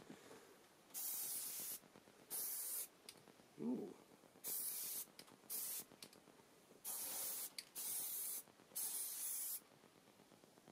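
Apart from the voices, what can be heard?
aerosol spray paint can spraying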